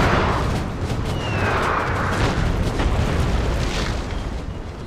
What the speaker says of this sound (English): gonna stop and shoot their cannons as well